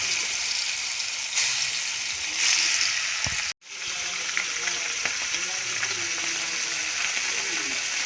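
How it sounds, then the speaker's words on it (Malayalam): Fish fries in hot oil in a home kitchen, making a steady, dense sizzle and crackle that continues throughout. A brief moment of near-silence cuts in midway before the frying resumes at the same level. "കുറച്ച് മീൻ വറുക്കാനുണ്ട്, അപ്പോൾ അത് വറുക്കട്ടെ."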